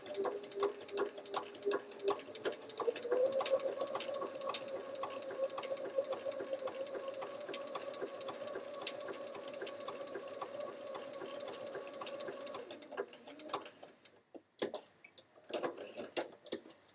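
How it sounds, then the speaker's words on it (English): A sewing machine runs a back stitch on a quilt block, a fast steady ticking hum for about thirteen seconds, then stopping, followed by a few short bursts and clicks, close and fairly quiet. "I am going to lock my stitch here. Do a back stitch just to secure it all in there."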